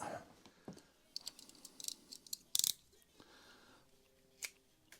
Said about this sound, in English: Just cut the end off your brush, opposite side as well.